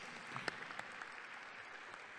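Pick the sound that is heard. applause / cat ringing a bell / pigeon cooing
applause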